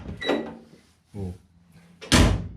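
Door of an MGB GT under restoration opening and closing in a workshop: a soft latch click and creak, a brief handling noise, then a loud, solid slam at the end, heard alone without talk.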